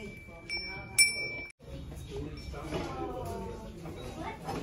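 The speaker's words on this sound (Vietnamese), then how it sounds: "Đẹp. Gió nó kêu lăng keng lăng keng." Wind chimes meant for hanging in a garden ring in a souvenir shop with a few bright, sustained metallic tones near the start, then fade as people talk.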